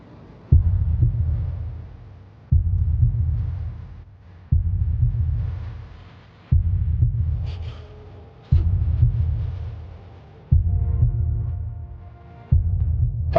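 A recorded human heartbeat plays over courtroom speakers as deep, low thumps spaced about two seconds apart. The beats are steady, loud and muffled, with a faint hum and some background noise between them.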